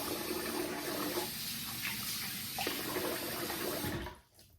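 Tap water runs steadily into a sink for wetting the face before shaving, a close continuous splashing gush that cuts off abruptly near the end.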